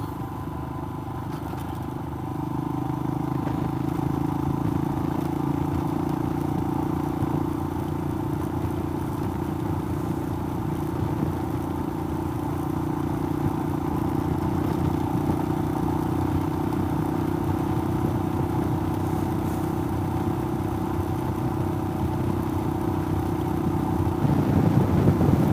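Motorcycle engine drones at a steady pitch for the whole stretch while the bike rides onto a gravel road near Middle Beach, South Australia, with faint crunching and wind rumble underneath and no talking.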